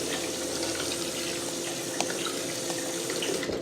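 A kitchen tap runs into a bowl of rice being rinsed, giving a steady close rush of splashing water with a few small clinks and no voices.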